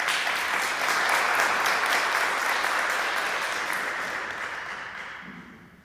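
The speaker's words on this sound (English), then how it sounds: "I wanted to give a big round of applause and thank you to Tara and Rob for being our panelists today." Audience applause for two panelists at the close of a tech discussion panel, a steady broadband wash of many hands clapping that swells early and slowly fades out over about six seconds.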